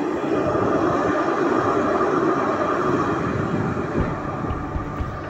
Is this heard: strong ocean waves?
no